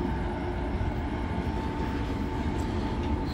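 A train runs on a railway line leading to the station in Heilbronn, Germany, heard as a steady, moderately loud rumble that continues without a break and with no talking.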